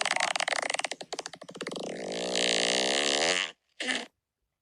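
A long fart, starting as a rapid flapping rattle that smooths into a sustained loud buzzing tone for several seconds, then a brief final puff after a short gap.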